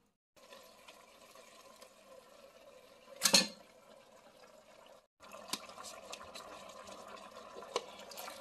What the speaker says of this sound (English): so I added water because at the bottom there's still blood